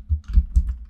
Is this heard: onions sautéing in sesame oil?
no